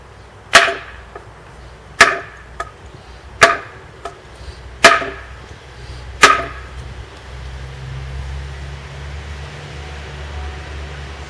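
Five sharp metallic strikes from the spine of a Boker Magnum Urban Tank folding knife hammered down during a lock test, spaced about every one to two seconds, close and loud, followed by a low steady hum with no talking.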